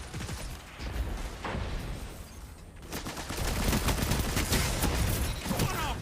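Bursts of SMG and machine gun fire in a first-person shooter video game, rapid repeated shots with a quieter stretch at first, then denser sustained automatic fire toward the end, no talking.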